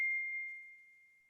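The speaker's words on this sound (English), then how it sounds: "What was that bell all about?" A single bell strikes once, a clear ringing tone that fades slowly over more than a second in otherwise quiet surroundings.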